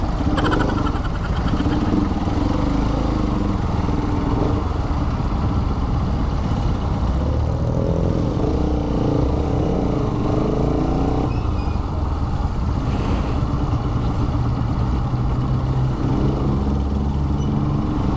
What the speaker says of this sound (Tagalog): Hindi ko expect na ganito ka traffic dito, grabe.